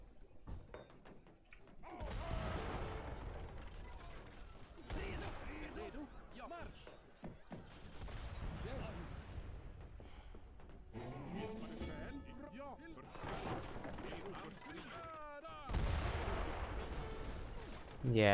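Repeated booming mortar and artillery fire from a strategy video game, dense overlapping blasts rolling through the mix at steady loudness, with a player talking over the barrage.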